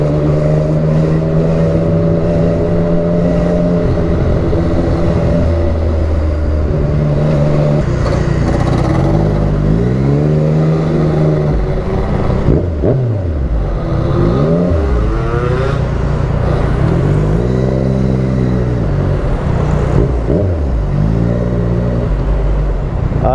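Road traffic surrounds a rider on a Yamaha MT-09 motorcycle, with engines droning and revving loudly, pitch sweeping up and down as vehicles accelerate and pass close by, no talk.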